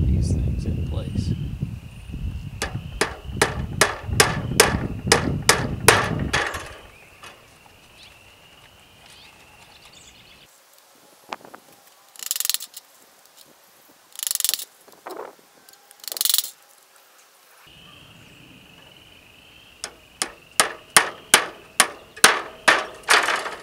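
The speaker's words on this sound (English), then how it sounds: "finish putting some more of these fencing nails in to hold the metal wire shelving onto the frame" Hammer blows driving fencing nails into a wooden shelf frame to hold metal wire shelving, loud rapid bursts of strikes at the start and end with scattered clanks and knocks between.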